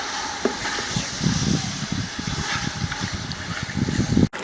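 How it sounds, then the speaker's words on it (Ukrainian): Meat sizzling and crackling in a hot pan for the Georgian dish ojakhuri, a dense steady frying hiss with small pops, close and fairly loud. "М'ясо смажиться, аромати ходять неймовірні."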